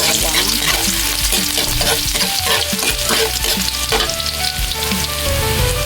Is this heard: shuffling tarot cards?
no